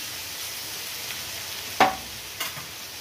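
Butter heating in a pan with fenugreek and cumin seeds for tempering gives a steady soft sizzle throughout, broken by two short sharp clicks of utensil contact near the end; no voices.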